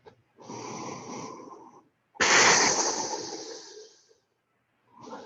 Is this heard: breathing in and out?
yes